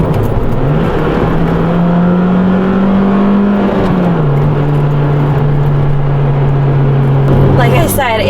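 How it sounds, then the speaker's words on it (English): A Honda Integra DC5 Type S engine pulls hard and loud, its note climbing steadily as VTEC kicks in, then settling into a sustained high drone from inside the car. "very fun to drive, especially when you hear that VTEC kick in"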